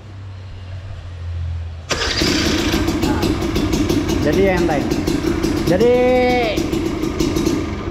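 A motorcycle's newly fitted electric starter cranks briefly and the engine catches, then runs and revs at close range with a couple of rising throttle blips while people talk over it.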